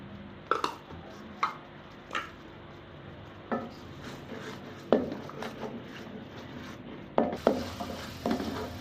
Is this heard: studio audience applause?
no